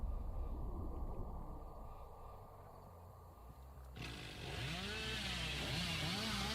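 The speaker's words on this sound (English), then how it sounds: "So the way the chainsaw works..." A chainsaw in the video game Dead by Daylight, set on the Backwater Swamp map, drones under ambient noise, then rises into louder revving with swooping pitch sweeps toward the end, with no voices.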